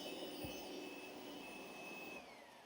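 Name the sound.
Roomba Combo 10 Max robot vacuum running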